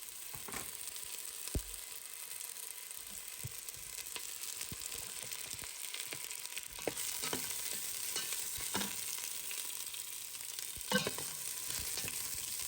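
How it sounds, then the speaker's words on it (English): Onion caramelizes in a little olive oil in a pan, a faint, steady sizzle with scattered crackles and light stirring clicks over a long stretch, no voices. "First, we're just gonna caramelize this onion."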